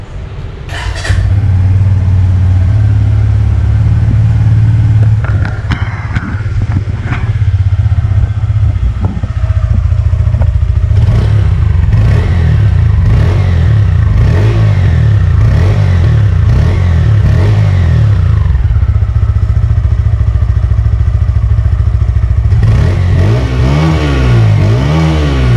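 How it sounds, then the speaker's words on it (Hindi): A 2024 Bajaj Pulsar N150 motorcycle starts, settles into a steady mid-pitched idle, then gets blipped in repeated revs that rise and fall, loud and close throughout. "पहले अपन साउंड सुनेंगे इस बाइक का।"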